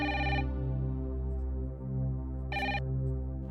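A telephone rings indoors at home in two bright electronic trill bursts separated by a pause, with a steady low hum running underneath.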